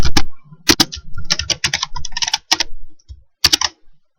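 Typing on a computer keyboard, a table name being entered in MS Access, with crisp close clicks in quick bursts and short pauses between groups of keystrokes, no voices.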